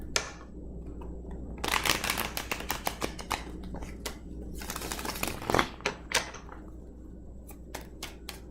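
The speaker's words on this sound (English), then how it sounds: "Hold on, I'm going to shuffle one more time." Tarot cards being shuffled by hand, a run of crisp riffling snaps and taps that start and stop in short bursts, close and fairly quiet, with no talking.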